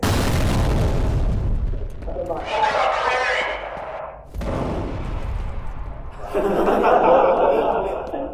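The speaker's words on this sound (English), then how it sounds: "Oh, he's throwing a grenade." Grenade blasts in the first-person shooter F.E.A.R., heavy booms with crackling debris that rise and fade twice over the clip, loud and up front, mixed with a man's chuckling.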